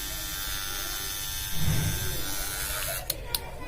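A Vintage T9 electric hair trimmer runs with a steady high buzzing whine, close and continuous, while a person speaks over it and a couple of sharp clicks sound near the end.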